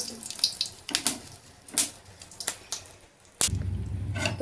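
Dried red chili drops into hot oil in a home kitchen, with a few soft clatters and splashes before a sudden loud, continuous sizzle.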